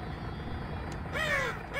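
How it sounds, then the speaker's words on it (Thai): In the Half-Life 2 mod Nightmare House 2, a crow gives a single harsh caw, then a second drawn-out call, fairly faint and distant over a steady low ambient hum. "อีกาอีกาเรียกเขาว่าอีกานะฮะบินไปแล้วนะฮะ"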